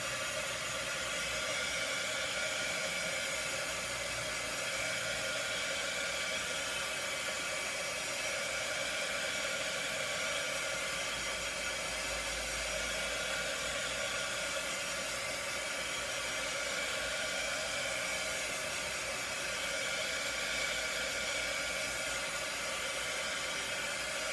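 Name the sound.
heat tool drying craft paint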